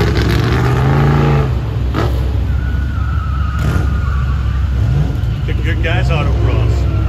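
A 1963 Nova Gasser with a solid front axle drives an autocross course, its engine revving and roaring loudly and steadily throughout, with tire squeal and a commentator talking over it.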